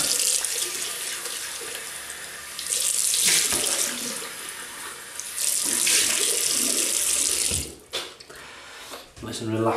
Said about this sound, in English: rinse off.